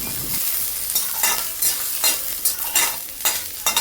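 Ginger and five or six green chillies fry in a pan, a loud close sizzle broken by repeated rhythmic stirring scrapes roughly every half second, with no talking.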